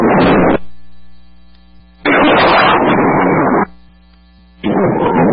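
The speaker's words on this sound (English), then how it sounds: "there's multiple propane tanks as you can hear." Multiple propane tanks exploding at a five-alarm fire in New Jersey, heard as two or three long, loud roaring bursts separated by gaps of radio hum.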